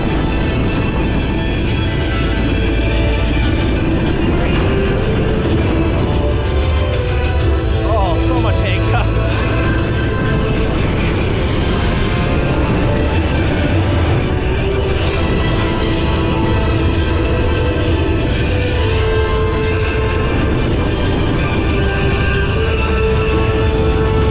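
Onboard a Mack Big Dipper roller coaster, dense continuous rumble and wind roar fill the ride, with faint screams and shifting tones throughout.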